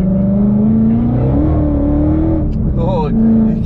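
A 1000BHP Whipple-supercharged V8 Mustang GT accelerates hard with a loud, continuous engine drone and supercharger whine, the pitch climbing and shifting, with a brief voice near the end.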